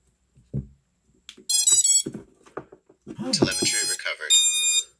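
An FPV quadcopter beeps in short, high electronic tones when its battery is plugged in, with a few clicks and handling noises between the beep bursts, close and fairly quiet.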